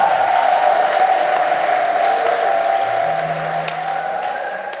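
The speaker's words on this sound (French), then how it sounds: "Acclamons Jésus très fort" Easter Sunday Mass congregation applauding and acclaiming Jesus, a steady wash of clapping from a large crowd in a church that holds at an even level throughout, with a sustained tone running underneath.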